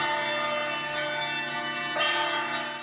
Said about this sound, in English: Bells tolled in Ukraine, marking the fourth Independence Day since Russia's invasion.